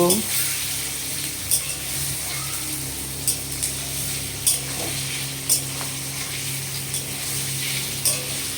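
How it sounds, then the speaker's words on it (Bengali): Turmeric frying in a pan for paneer butter masala: a soft, steady sizzle under a background hum, with periodic sharp scraping clicks of a spoon stirring against the pan every second or so. "হলুদটা একটু ভেজে নেব"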